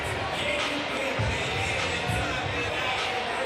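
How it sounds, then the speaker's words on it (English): A Lingerie Football League crowd in Saskatoon roars with approval at a penalty call against Regina, a dense, loud, sustained cheer with a commentator talking over it. "Saskatoon crowd loves the call"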